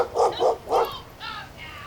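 A dog barks three times in quick succession, loud and close, followed by softer whining yips, heard outdoors during a long-distance bikepacking ride through Vermont.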